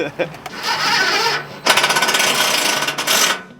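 A power driver sinks the last screws into a tiny house frame close by, with several bursts of rapid ratcheting whir and rough scraping, broken by short pauses.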